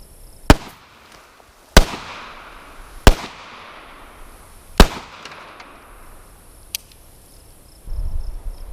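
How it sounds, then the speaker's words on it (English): Four sharp 9mm pistol shots ring out outdoors, fired through the side of a television, evenly spaced over several seconds. Each crack is loud and is followed by a brief echoing decay. "Fired 4 shots and all 4 went through."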